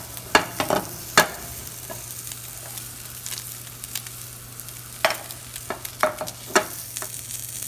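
Salmon sears in a hot pan with a faint steady sizzle, punctuated by scattered sharp clinks and scrapes of a utensil against the pan, quiet and close with no talking.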